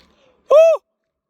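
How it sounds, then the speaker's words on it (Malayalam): A single short, sharp human shout rings out at Echo Point in Munnar, loud and close, lasting under half a second, followed by quiet with no distinct echo. "ഇവിടെ നിന്ന് കൂവി കഴിഞ്ഞാൽ തിരിച്ചു വരും"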